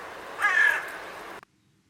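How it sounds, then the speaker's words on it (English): A single harsh crow caw, loud and fairly close, rising out of a faint outdoor hiss and then cutting off into silence. "Crows inhabit the entire globe except Arctic and the very tip of South America"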